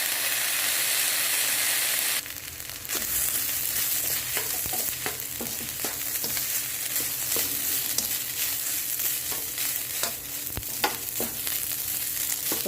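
Egg, spinach and chorizo fried rice sizzles and crackles steadily in a hot pan just after soy sauce goes in, a loud dense frying hiss with scattered sharp pops and stirring scrapes throughout.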